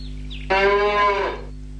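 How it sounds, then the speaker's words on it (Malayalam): A cow lets out a single long, close moo lasting about a second over a quiet low background hum. "ആ ചിന്തി പശുവിനൊന്ന് പാല് കുറവാ"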